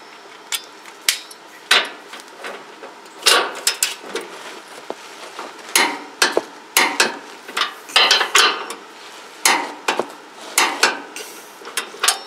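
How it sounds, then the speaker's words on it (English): A torque wrench tightens wheel bolts to 70, clicking and ratcheting in a long run of sharp, close bursts with brief pauses between them. "Get the torque wrench on her here."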